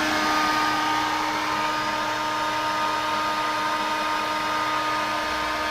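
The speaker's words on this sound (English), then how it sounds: "I'm defrosting the refrigerator with the hair dryer." Hair dryer running continuously to defrost a refrigerator's thick ice buildup, a loud, even whirring hum with a steady tonal whine, close and unbroken from start to finish.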